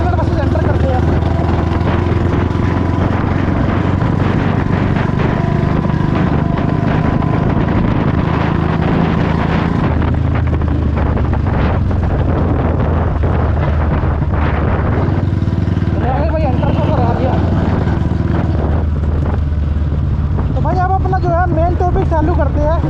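A Royal Enfield Bullet 350 Standard motorcycle rumbling along on a ride, a steady low engine drone with wind noise throughout, loud and close, with someone talking over it.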